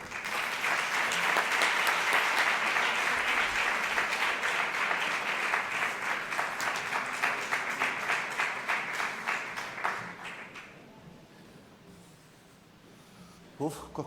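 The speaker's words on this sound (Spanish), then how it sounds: "Un fuerte aplauso." Loud, sustained applause from a lecture audience welcoming a speaker, dense clapping for about ten seconds before tapering off into quieter scattered noise.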